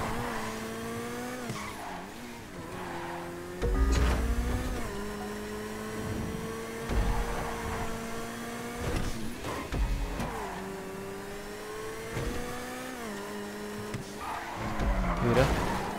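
Car in GTA Online revving and accelerating hard with repeated rising engine pitch, gear shifts and some tire squeal, heard close and continuous throughout.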